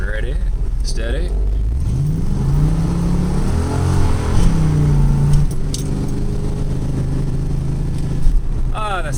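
A 1976 Pontiac Trans Am pulls away on the road, its V8 revving up through rising and falling engine notes, loud and close from inside the car, with brief speech near the start and end.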